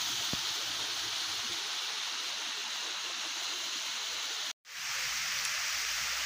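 Sewage water channelled into a river, heard as a steady, even rush of flowing water, close and continuous, broken by one brief dropout near the end.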